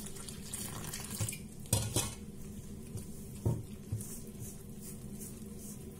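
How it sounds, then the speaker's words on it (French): Water being worked into olive bread dough with a wooden spoon in a bowl: soft wet stirring and scraping, a few sharp knocks of the spoon against the bowl, quiet and close, no voices. "Mélanger avec ma cuillère en bois."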